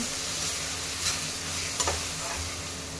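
Spice masala for mushroom curry frying in oil as the oil starts to separate at the edges, a steady close sizzle with a few faint stirring scrapes, and no voices.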